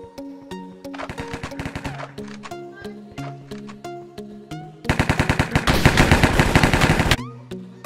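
Gunfire in the Hypixel video game. Scattered shots over tonal game music build into a loud, dense automatic burst lasting about two seconds, then the music carries on alone.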